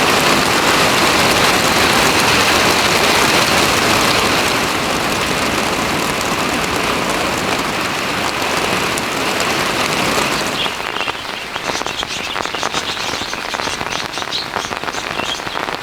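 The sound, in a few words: heavy rain falling on a garden aviary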